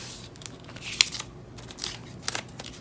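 Paper is pulled out of a photocard binder sleeve, giving soft rustles, scrapes and a few sharp crinkles spread over a few seconds, close and fairly quiet.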